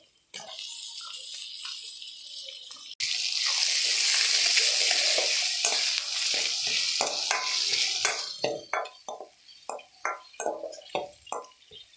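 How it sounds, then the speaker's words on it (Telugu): Cut okra pieces fry in a pan with half a spoon of turmeric, first a bright, loud hiss, then sharp crackling pops and spatters, with occasional stirring scrapes and no talk. "బెండకాయలు బాగా వేగాలండి, ఒక 10 మినిట్స్ పడుతుంది"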